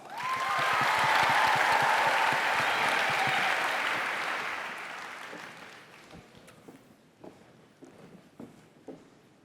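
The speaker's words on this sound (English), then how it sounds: "Now please join us in celebrating Alyssa's and with another big round of applause." Conference audience applauds at an opening session, a dense loud wash of clapping that swells at once, holds, then thins and fades into scattered claps and shuffling.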